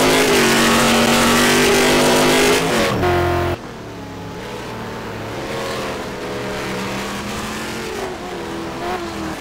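A Ford GT race car engine roars loudly onboard at Sebring in a sim racing game, holding a sustained high-revving whine, then dropping sharply in pitch and volume as it shifts down and climbs again.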